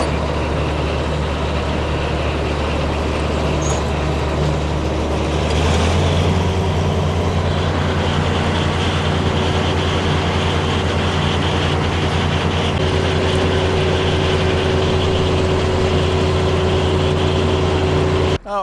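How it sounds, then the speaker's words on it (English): A hay mower runs loudly and steadily throughout, its helical gear set meshing gear on gear in a continuous engine-and-drivetrain drone with a sustained whine, nearby and without pause. "I blame the helical gear set. I mean, because it's gear on gear meshing"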